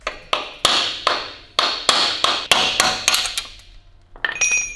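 A hammer drives a chisel against metal car parts during a suspension and brake build, giving a run of about a dozen sharp, ringing metallic strikes in an uneven rhythm, close and loud, with no talk.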